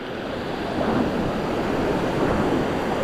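Rushing river floodwater surges high enough to sweep away a new bridge, a broad, steady roar of churning water close by with wind buffeting the mic and no voices.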